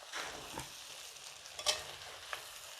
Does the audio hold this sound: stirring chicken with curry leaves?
yes